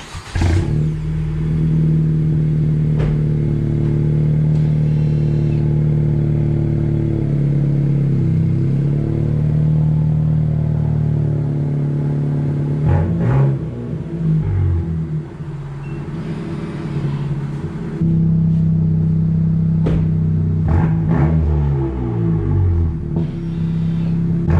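A 2018 Honda Civic Si, 10th generation, with a ghost muffler delete exhaust, idles with a steady deep drone, then revs up and down several times in loud, raspy bursts close by.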